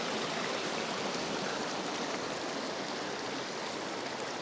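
Continuous broad rush of a waterfall and flowing creek in Southern California, steady and loud, with no other sounds breaking through.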